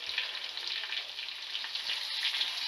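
Steamed stuffed eggplants sizzle steadily in an uncovered pan as they are turned one by one, a close, even hiss of frying oil without talk.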